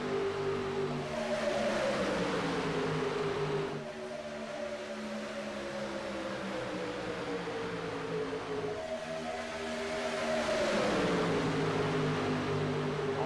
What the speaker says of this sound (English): Oh man, them cars are absolutely screaming.